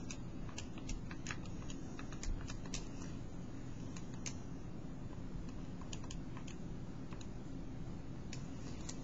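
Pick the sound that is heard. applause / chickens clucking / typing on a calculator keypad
typing on a calculator keypad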